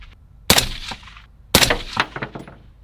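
Gunfire comes in two sharp, loud blasts about a second apart, each followed by quick metallic pings and a ringing tail.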